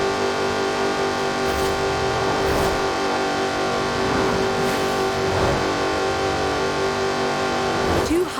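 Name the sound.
Jaguar Project 7 car engine in Forza Horizon 4 video game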